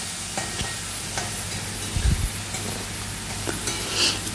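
Chudanga vegetable thoran being stirred in a pan, with soft scraping strokes and a low, steady sizzle running under them, close and fairly quiet.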